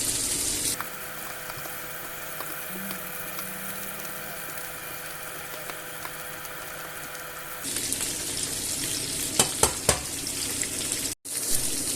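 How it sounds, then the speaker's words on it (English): Spanish sausages fry in a pan with a steady, close sizzling hiss that runs for several seconds, then breaks off into a few sharp clinks and clatters near the end. "we'll turn them over so they fry on the other side"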